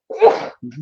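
A single close, sharp human sneeze that bursts out loudly and stops quickly, followed by a short murmured voice.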